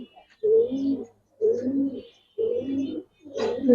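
Pigeons in a loft give three clear, close, throaty coos at an even pace, with a fourth starting at the end, and quiet pauses between them.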